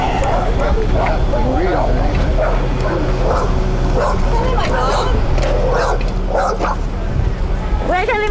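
A dog yips and barks repeatedly in short, excited bursts amid a busy outdoor hubbub of people talking, fairly close and loud throughout.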